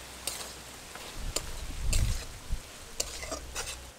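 Fried prawns tipped into a pan of potato and fig curry and stirred, giving a few soft scraping knocks and a low thud around the middle, with light sizzling underneath and no voices.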